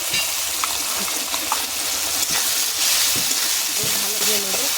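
Ginger and garlic sizzle in hot oil for a tangra fish and eggplant curry, a continuous close hissing fry with light stirring while a person talks over it.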